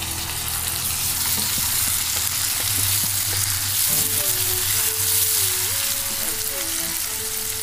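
Onions and tomatoes frying together in a pan for prawn masala, a loud continuous sizzle close up, with a faint whistling tone drifting in the background and no talk.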